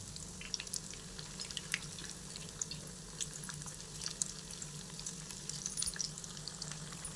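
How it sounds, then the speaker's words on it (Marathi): Shepu (dill) vadi frying in reused hot oil, a continuous close crackling sizzle with scattered sharp pops and spits throughout, no talking. "तेल तापले. आता आपण वडी सोडून घेऊ."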